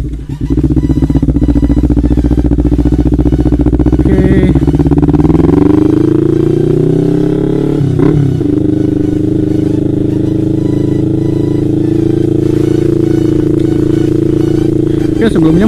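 Kawasaki Ninja motorcycle of an older type on a test ride, its engine droning loud and steady close to the microphone, revving up in pitch around the middle then settling into a sustained cruising hum.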